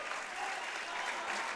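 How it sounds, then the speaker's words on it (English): Crowd in the stand at a Scottish league football match, Stranraer against Stenhousemuir, cheering and applauding steadily for a substitute coming on, a broad, even wash of noise with no single voice standing out. "you get the rousing cheer for the stand"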